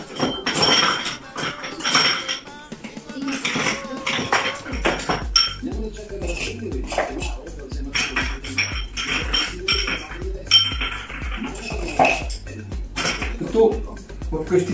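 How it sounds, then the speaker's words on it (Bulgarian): Ice cubes rattle and clink into a glass jar for a Tom Collins cocktail, a busy run of sharp knocks and chinks with a low hum underneath partway through. "След което отварям внимателно буркана и добавям лед."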